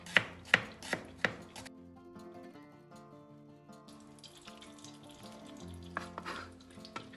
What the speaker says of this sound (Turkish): soğanlarımı jülyen jülyen doğrayacağım